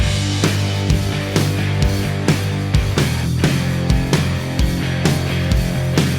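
A polished, punchy rock drum kit groove, mixed without samples, with a tight kick, a crisp snare and a wash of cymbals, playing steadily throughout at full volume.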